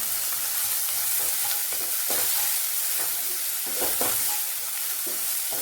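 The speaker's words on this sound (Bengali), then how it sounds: "ফ্লেমটা কমিয়ে ভাজলে না বেশ পেঁয়াজটা তাড়াতাড়ি সেদ্ধ হবে" Sliced onions frying in a pan for a vegetable and chicken stir fry, a loud continuous sizzle with scattered scraping strokes and soft knocks from a stirring utensil, close up and unbroken by speech.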